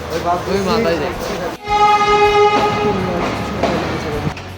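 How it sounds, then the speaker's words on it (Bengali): A train horn blares loudly and steadily for a couple of seconds as a train pulls into a station, amid rumbling rail noise and nearby crowd chatter. "ফাইনালি ট্রেনটা সাইডে দিছে"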